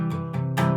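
An acoustic guitar strummed openly without palm muting, playing chords from a song in three ringing strums that sustain and blend together, close and fairly loud.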